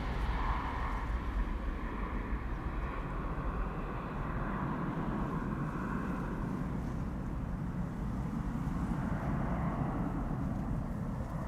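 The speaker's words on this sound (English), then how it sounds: "And this is KLM flight 1199 to Oslo, A737-800." Jet engine roar from a KLM Boeing 737-800 departing Amsterdam Schiphol on a flight to Oslo, a steady broad rumble that holds at constant loudness throughout, with no talk.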